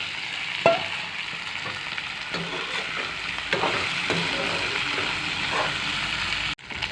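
Chicken pieces fry in hot oil in a pan, a steady close sizzle with a few stirring scrapes and knocks, and no voices.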